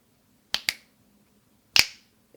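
Split heart sound imitated by finger snaps: two quick close snaps, then a single louder snap after a pause, sharp and near with a faint tap at the end.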